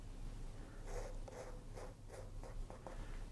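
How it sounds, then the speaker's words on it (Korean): Razor scraping through hair in a short women's haircut, a series of soft, dry, brisk scratching strokes close by, with no talking. "눌러서 레자로 이렇게 긁어주시기 바랍니다"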